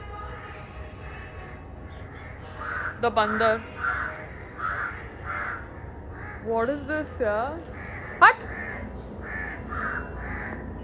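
A crow caws in several sharp, repeated bursts, then gives one louder call, under and between people talking.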